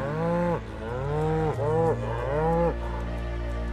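Cattle mooing in the Final Fantasy 7 Rebirth video game, with several long, loud, drawn-out moos in quick succession over a steady game background.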